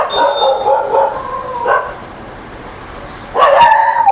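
Stray dogs bark and yip close by as they chase a garbage collector, in two loud bursts separated by a quieter pause.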